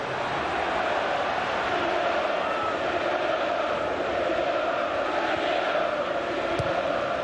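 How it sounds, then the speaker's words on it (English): A jam-packed capacity football crowd at Gillingham versus Manchester City in a 1999 playoff match roars as a steady, loud, dense wash of voices throughout, with no distinct breaks. "Jam-packed, capacity crowd."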